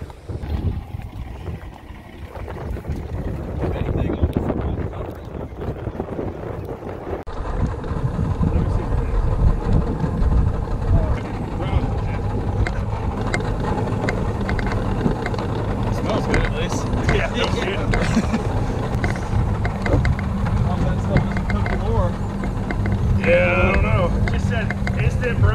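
An Xpress H18 Pro aluminum bass boat runs on a windy, choppy lake, its outboard drone steady and fairly loud, with wind buffeting and hull slap throughout.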